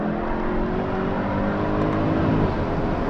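A Mercedes C63 AMG with the Performance Pack pulls hard under acceleration, its engine giving a dense, steady roar with rising harmonics, recorded close from inside the car and heard with no talk.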